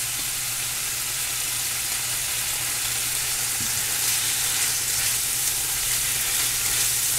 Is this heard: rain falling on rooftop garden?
no